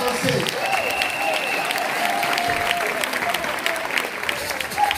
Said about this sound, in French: Est-ce qu'il y a quelqu'un qui peut acclamer le Seigneur?